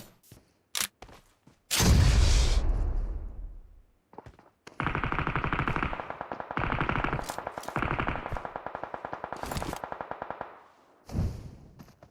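Automatic gunfire in the mobile battle royale game PUBG Mobile: a few single shots, then a loud blast, followed by long sustained bursts of rapid fire with brief gaps and a final short volley.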